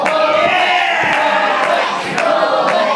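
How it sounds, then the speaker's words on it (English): A wrestling crowd cheers and chants for Mullet Man during a tag-team match, a loud, sustained roar with rhythmic chant-like swells and a few sharper shouts. "Crowd firmly behind Mullet Man right now"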